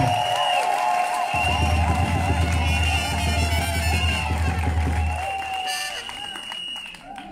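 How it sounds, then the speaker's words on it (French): A crowd welcoming Simone Ehivet Gbagbo breaks into loud applause and cheering with whoops, sustained for several seconds over a low droning hum, then fading as the noise thins. "Applaudissez-la s'il vous plaît."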